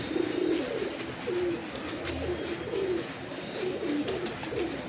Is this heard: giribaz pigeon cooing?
yes